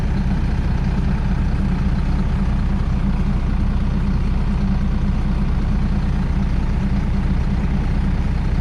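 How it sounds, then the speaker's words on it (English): A 2002 Volvo single-axle water tanker street flusher with a 275 hp Volvo D7 diesel idles steadily at close range, a deep continuous low rumble with no talking. "I'll climb out now and stuff the camera in so you can listen to the motor"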